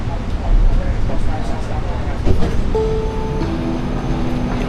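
An Amtrak train rolls along in Seattle with a steady rumbling roar, wheel clatter and a brief rising tonal squeal or hum near the end, heard from on board or close by.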